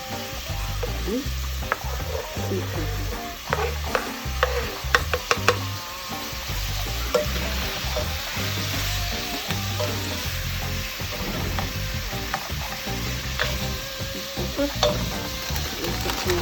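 Cauliflower, broccoli and carrot frying in a pan with turkey bacon pasta cooking, a steady close sizzle broken by scraping stirs and occasional utensil knocks throughout.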